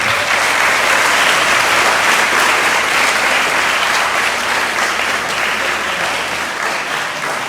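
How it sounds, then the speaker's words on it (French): Sustained applause from a sizable audience at a school centenary ceremony in Torbeck, Haiti, steady and loud from start to finish with no talking over it. "Sous vos applaudissements."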